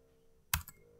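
A single short burst of computer keyboard keystrokes, close and crisp, stands alone against a quiet room for about a quarter second.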